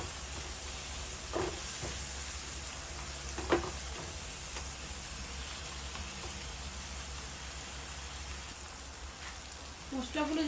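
Spices such as cumin powder frying in a pan for an egg curry give a steady, soft sizzling hiss, with a few faint stirring scrapes and clinks near the end.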